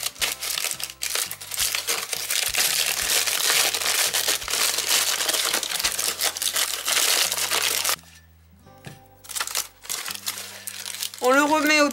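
Paper tube wrapped around a glass jar and crumpled by hand to make a lantern, a dense, continuous crackling and rustling for about eight seconds before giving way to quieter tonal sounds.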